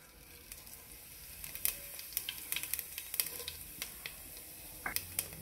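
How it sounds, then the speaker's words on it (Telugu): Mustard and cumin seeds sizzle in hot oil while tempering for a yam tamarind curry, a steady crackling hiss punctuated by sharp pops and spits, close and alone. "ఆవాలు, జీలకర్ర వేస్తున్నా."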